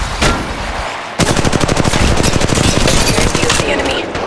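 Rapid bursts of Mastiff shotgun fire in the Apex Legends Mobile video game, loud and close, with a single shot followed by a dense run of repeated blasts; game voices sound briefly.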